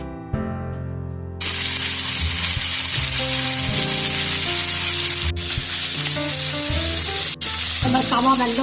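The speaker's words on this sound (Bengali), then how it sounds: "এরকম করে ভেজে নেবো, চিকেনটা ভালোভাবে কুক হয়ে যায়" Chicken kathi kebab pieces frying in a pan give a steady broadband sizzle that starts a moment in and holds loud to the end, with a soft tonal instrumental bed running underneath.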